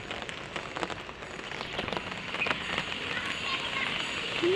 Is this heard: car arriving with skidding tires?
no